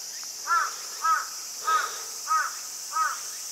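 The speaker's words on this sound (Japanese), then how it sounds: "ほんまにこのカラスたちうるさいな。" Five harsh crow caws spaced evenly about half a second apart, moderately near, over a steady high insect buzz, at Asukani-imasu Shrine in Japan.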